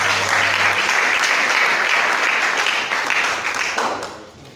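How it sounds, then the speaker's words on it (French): Sustained applause from an audience at a televised public-health debate, steady and dense, then tapering off near the end. "coordonnateur John Mondele, encore une fois ces applaudissements."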